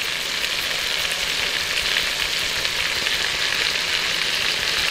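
Ginger frying with prawns in a hot pan, giving a loud, dense, continuous sizzle close up, like steady rain, with no voice over it.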